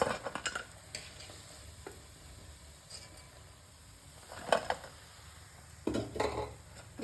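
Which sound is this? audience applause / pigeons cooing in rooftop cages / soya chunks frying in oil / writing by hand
soya chunks frying in oil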